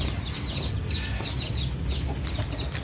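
A brown Aseel hen clucks in short, repeated bursts at moderate distance, heard alone over steady low background rumble without any talking.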